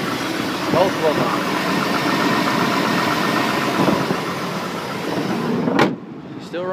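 An old, free four-wheel-drive truck idles roughly with multiple misfires, its engine a steady close rumble with uneven knocks, ending in a brief squeak as the sound drops, with a voice partly under the engine.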